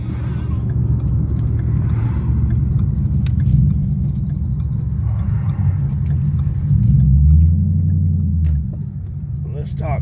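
Cammed Chevrolet Caprice engine rumbling with a loping, choppy idle and a couple of swelling blips, loud and close, while people talk over it.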